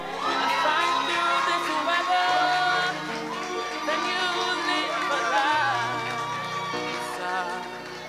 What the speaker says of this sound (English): I'm guessing we get a lovely cheer tonight from this corner